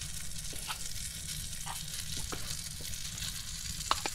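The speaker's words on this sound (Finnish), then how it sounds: "paistetaan niin kuin yksi pihvi kerrallaan" Steak searing in a pan over a low-heat wood stove inside a tent, one piece at a time, giving a steady, close sizzle with a few small pops and crackles and no talking.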